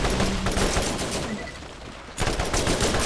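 Sustained rapid turret fire from Borderlands, a dense, loud barrage of gunshots that breaks off briefly into a quieter lull before the heavy automatic bursts resume.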